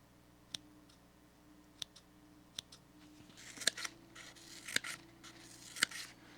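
Scissors snip several times, crisp metallic cuts spaced a second or so apart, close by over faint background noise.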